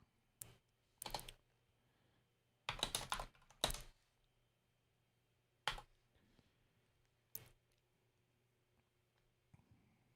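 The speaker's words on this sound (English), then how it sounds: "Hold on here while I'm typing a message." Quiet computer keyboard typing in scattered bursts of clicks and short rapid runs of keystrokes, with pauses between them over a faint steady hum.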